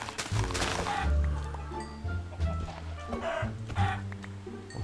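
Chickens clucking in the Minecraft video game, repeated short clucks over several seconds alongside game music and other in-game sounds.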